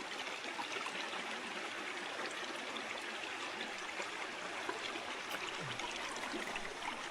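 Water flows steadily in a stream in Madagascar, a continuous rushing, bubbling wash with no pauses, heard at moderate distance.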